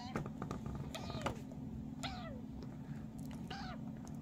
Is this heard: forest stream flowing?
no